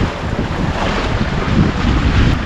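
A small sailboat camping along the Texas Gulf Intracoastal Waterway on a broad reach in the morning, with steady wind rushing over the microphone and a constant wash of water and waves, and no voices.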